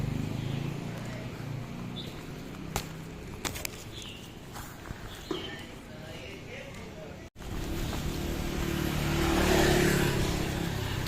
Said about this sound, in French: C'est qu'il y a tellement de scooters ici.